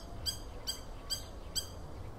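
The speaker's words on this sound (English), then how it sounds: "We have this little bird here. In Portuguese, it's called a curucuru." Curucuru bird calling from nearby, four evenly spaced high chirping notes at a steady rhythm over faint background ambience.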